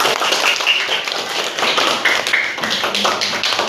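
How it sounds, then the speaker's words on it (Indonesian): Students in a classroom clap together, a dense, steady patter of many hands held close and loud for a few seconds. "Tepuk tangan dong"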